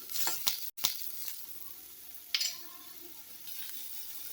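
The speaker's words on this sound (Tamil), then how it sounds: "வடகம் மிளகாத்தூள் மஞ்சள் தூள்லாம் சேர்த்து வதக்கிட்டு நம்ம வாழைப்பூ சேர்த்து வதக்கலாம்" Chopped banana flower sautés in a pan with vadagam, chili powder and turmeric, giving a soft, steady sizzle with a few quick clinks of stirring near the start and a brief scrape midway.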